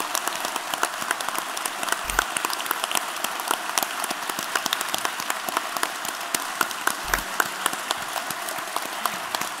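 An audience claps and cheers for Heroes Orchestra at a live stage event, a dense, loud, sustained wash of applause that carries on steadily, with a couple of low thumps.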